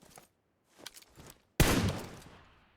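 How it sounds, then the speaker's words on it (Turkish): Gunfire in the mobile battle-royale game PUBG Mobile: a few faint distant shots, then one loud close burst of rifle fire that rings out and decays over about a second. "Adam kayaya sıktı mermi bana geldi"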